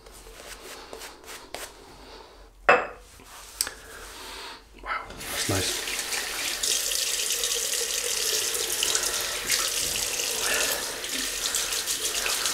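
Water runs from a bathroom tap to heat a Gillette Tech double-edge razor, a steady broadband rush that starts partway in after a few clinks and handling sounds and continues to the end.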